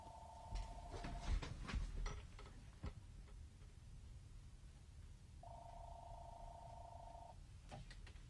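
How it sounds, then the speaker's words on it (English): Telephones ring in short electronic trilling bursts, one near the start and another a few seconds later, over faint background noise and scattered ticks. "I've got too many phones ringing here."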